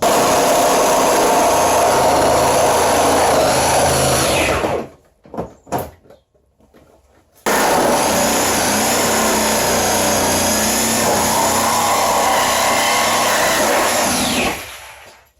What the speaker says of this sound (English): I haggardly cut through the windshield with the Sawzall